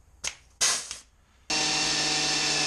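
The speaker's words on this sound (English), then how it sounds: "Punch some weld holes," A hand tool punches weld holes in a metal car body panel, with a couple of sharp clacks followed by a loud, steady power-tool whir that starts abruptly and holds.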